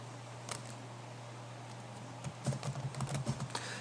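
Clicks of typing on a computer keyboard, sparse at first and then a quick cluster of keystrokes, close and fairly quiet over a steady low hum.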